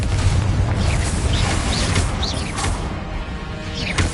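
A Confringo blasting spell explodes in the video game Hogwarts Legacy, giving loud booming crashes with whooshing magic effects. The dense, sustained burst of combat noise fills the whole stretch.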